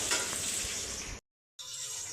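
Garlic and green chillies sautéing in a pan for an egg fry, producing a loud, continuous close sizzle with stirring, briefly cut off in the middle before the frying resumes.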